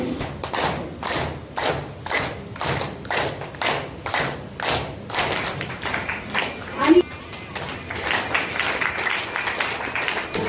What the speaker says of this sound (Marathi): त्यांच्यासाठी आपण छान वेलकमच्या टाळ्या वाजवूया